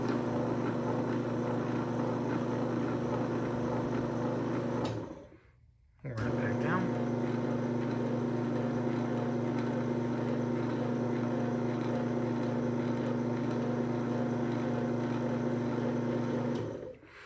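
Factory refurbished 1998 Lift-Master 1280-LM Formula I garage door opener running: steady humming motor drone with a strong tonal whine, stopping briefly near the middle with a clunk before restarting and running evenly to the end.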